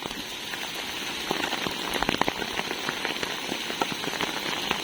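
Steady heavy rain falls in Chennai, a close, constant wash of drops hitting the ground and nearby surfaces, with a brief burst of sharper splashes midway and no talking.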